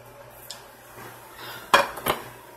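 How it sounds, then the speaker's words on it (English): Chopped onion and beans tipped into a cooking pan where pheasant meat is being cooked: two sharp metallic clanks and rattles close by, following a quiet stretch, with no talking. "I'm ready to put my onion, my beans in there"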